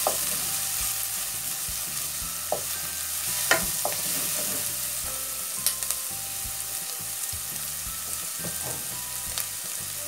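Two cloves of crushed garlic sautéing in a pan for a vegetable broth, a soft continuous hiss with a few scattered clicks and scrapes of stirring, close-up and steady without any voices.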